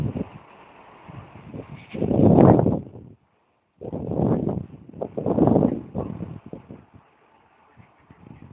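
Gusts of wind roar through an open window on a blustery January day, coming in loud rushing bursts separated by quieter lulls and one brief near-silence.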